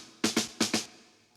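Four sharp snare drum hits from a bottom microphone on a rock kit, in two quick pairs with bright rattling snare wires, heard alone with short decays.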